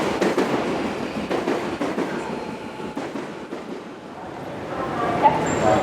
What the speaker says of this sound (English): this is a lot of trains.